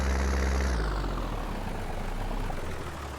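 A tractor engine in Farming Simulator 19 runs with a loud low rumble that drops in pitch after a moment and keeps going steadily.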